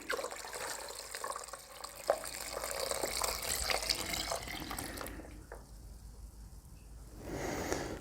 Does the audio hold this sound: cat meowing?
no